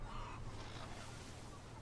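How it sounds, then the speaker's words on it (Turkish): Roosters squabble in a cockfight scene in GTA 5, their harsh honking squawks steady and close across the whole stretch over a low rumbling background. "Horozlar burada abi."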